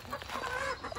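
A backyard garden chicken gives a short burst of close clucking, a few quick rising notes, heard on its own.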